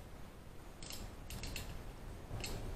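A socket wrench ratchets in a few short clicking bursts while loosening rusty cylinder head bolts on an engine, quiet and close with no talk.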